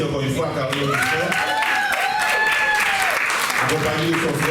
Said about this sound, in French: on applaudit encore une fois Carly Augustin